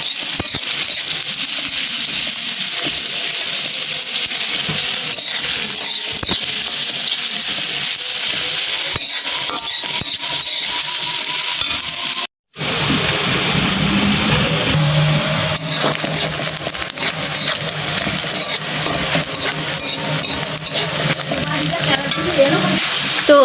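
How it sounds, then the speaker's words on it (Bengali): Chopped onion and garlic sizzle steadily in hot oil in a pan, with a spatula scraping and stirring throughout, close and loud, broken by one brief cut midway. "তো পেঁয়াজ আর রসুন কুচিগুলারে আমি এখন ভালো করে একদম ভাজা নিব"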